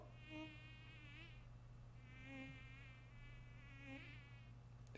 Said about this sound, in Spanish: ¿Se escucha una mosca y todo o qué?